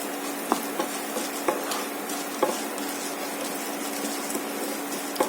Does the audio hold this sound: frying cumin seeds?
yes